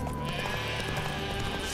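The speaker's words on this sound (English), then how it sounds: "That's a lot of sheep." A flock of sheep bleats close by in The Witcher 3, the calls overlapping amid busy game ambience with faint clip-clopping hooves.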